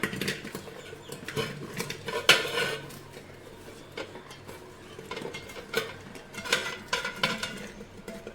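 Pieces of brinjal tipped into a large idli steamer vessel, with a string of metallic clanks, clatters and scraping knocks of the pot and utensil, close and uneven, no talking.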